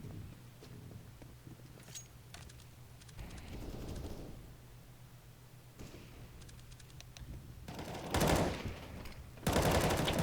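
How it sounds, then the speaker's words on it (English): M4 rifle fire in a Counter-Strike match comes in short rapid bursts, some near and some distant, separated by quieter stretches and ending in two loud louder volleys. "Badger getting a double kill with the M4"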